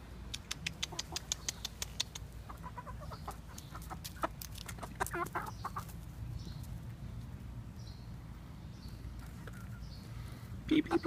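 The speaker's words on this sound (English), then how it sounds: "You like those chickens?" Several chickens cluck and call in short bursts, close by and fairly loud, with broadband farmyard noise underneath and a cat nearby.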